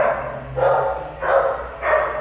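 A male dog about two years old barks three times in close succession, loud and near, with a faint low hum underneath.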